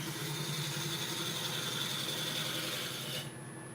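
A bowl gouge cuts a large pear tree burl spinning on a wood lathe, giving a continuous rough rasping hum that holds steady and then drops off abruptly near the end as the cut stops.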